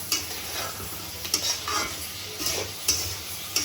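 Meat frying in a pot with whole cloves, cardamom, cinnamon and cumin, soft sizzling under repeated scraping stirs of a utensil against the pot at an irregular rhythm, fairly quiet and close.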